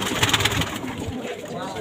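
Pigeons in a loft cooing softly, with someone speaking over the continuous low coos.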